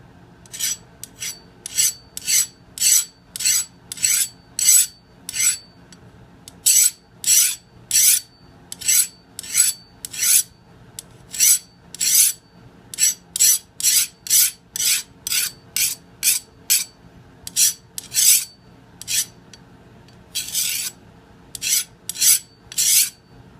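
A SharpensBest knife sharpener grinds a metal knife blade in steady, rhythmic rasping strokes, about thirty close, loud passes with brief pauses between them and no talking.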